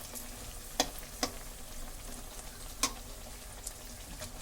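Slices of breadfruit fry in a pan with a soft, steady sizzle, punctuated by a few sharp clicks and taps from the utensil against the pan. Quiet and close, with no talk.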